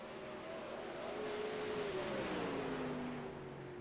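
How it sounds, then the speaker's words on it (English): A 360 winged sprint car at Knoxville Raceway drones through a turn off the throttle, its engine note sliding downward as a steady, fairly distant roar with no voices. "You can hear how much he's off the throttle through that turn."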